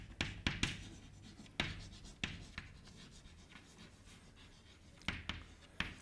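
Chalk or marker strokes on a classroom board during a physics lecture, a few sharp scratchy bursts scattered across a quiet room, fairly close and moderately loud.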